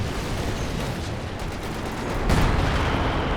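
Howitzer artillery fire in the World War II strategy game Company of Heroes 2, heard as a dense rumbling barrage of booms that swells louder near the end of the short stretch, with no talk over it.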